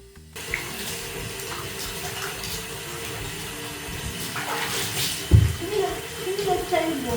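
Shower water runs steadily while a pet rabbit is bathed, a continuous hissing spray with splashes and a sudden louder gush, under a woman's soft speech.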